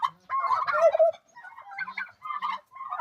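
Turkeys on a home farmstead gobble in several rattling bursts, close and loud, with short pauses between calls and no talking.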